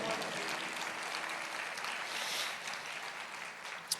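A church congregation claps together in a steady, dense wash of applause that carries on evenly, fairly loud throughout with no voices standing out.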